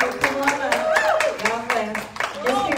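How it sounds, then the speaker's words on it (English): Congregation members at a church service clap in welcome, scattered hand claps sounding under a voice that keeps talking throughout. "let's give her a hand clap of welcome today"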